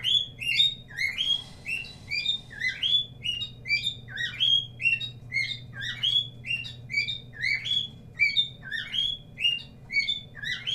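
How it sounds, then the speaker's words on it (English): Continuous close bird chirping, bright tweets repeating at a brisk even rhythm, with a faint steady hum in the background. "I'm gonna kill that bird."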